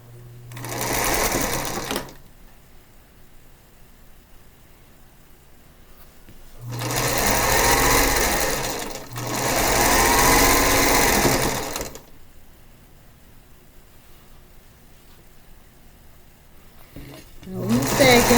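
A sewing machine stitching a quilt block seam, running in short bursts of fast, steady whirring and rattling stitching, about three runs separated by quiet pauses, with another brief start at the very end.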